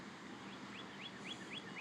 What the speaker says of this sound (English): birds fighting over the soot